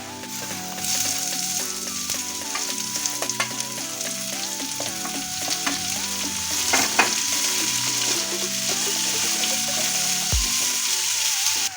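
Onion goes into a pan where crushed garlic has been frying, with a steady crackling sizzle running throughout beneath continuous background music, plus an occasional utensil knock; nobody speaks.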